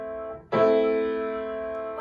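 A single minor chord played on piano, struck firmly after a brief fading tail of an earlier note, then sustained and gradually decaying, heard alone without speech.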